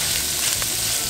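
Polish kielbasa browns in a pan with a steady, close, dense sizzle and its fat rendering, continuous throughout with no talk.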